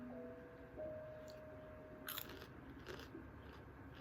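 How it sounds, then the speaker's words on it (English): Someone bites into crunchy Gordon's fish sticks, giving a few faint, close crisp crunches and chews in a quiet room. "The crunch. Nothing beats that."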